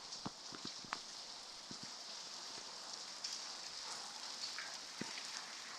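Heavy rain pours down outdoors as a steady, even hiss with scattered sharper drips and taps throughout, and no one speaks.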